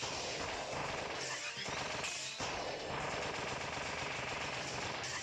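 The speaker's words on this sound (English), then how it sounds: "This time they're bringing in some really serious artillery." Heavy cannon gunfire rattles in the video game Kirby: Planet Robobot, a dense, continuous barrage of rapid blasts and crashes that stays loud throughout with only brief dips and no talking.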